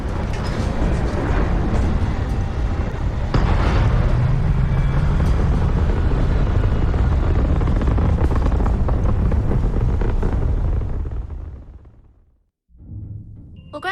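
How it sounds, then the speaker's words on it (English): Spaceship engines roaring on takeoff in the video game Starfield, a loud, heavy rumble holding steady for about eleven seconds before cutting out into near silence, then a short burst of sound resumes at the end. "All crew prepare for takeoff."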